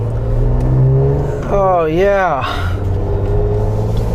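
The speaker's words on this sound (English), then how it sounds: "a custom exhaust on this vehicle, and it has a very throaty, kind of like a old muscle car sound to it" A 2014 Jeep Wrangler Sport with a custom exhaust rumbles with a throaty, steady low engine note, while a voice rises and falls briefly over it.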